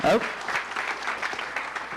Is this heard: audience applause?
yes